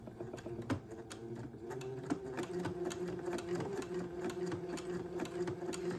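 A sewing machine runs steadily, stitching along a seam line through folded fabric while making a gown, its needle ticking in a fast, even rhythm with a sustained motor hum throughout.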